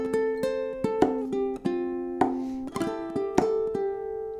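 Ukulele picking the opening two bars of a song with percussive body taps, a clear melodic line of plucked notes punctuated by sharp tap accents, played alone without talk.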